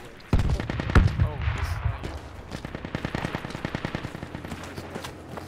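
Automatic gunfire in the video game Project Reality, a loud near burst followed by rapid repeated shots in a sustained rattling stream, with faint distant reports and brief voice chatter underneath.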